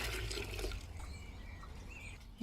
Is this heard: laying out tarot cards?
no